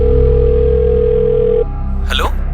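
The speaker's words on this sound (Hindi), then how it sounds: "ये तो फोन ही नहीं उठा रहे सर" A phone call rings out unanswered, a loud steady ringing tone on the line that cuts off, followed by a brief voice.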